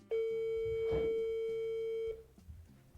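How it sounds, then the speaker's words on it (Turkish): Telephone busy signal on a call to an ex, a single steady electronic tone held about two seconds, clear and close, with faint background murmur and a laugh-like sound underneath. "Direkt meşgul abi."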